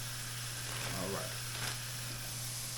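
Dry-rubbed pork chops fry in a pan with a steady, close sizzle and hiss that runs unbroken throughout, with a brief stirring shuffle partway through.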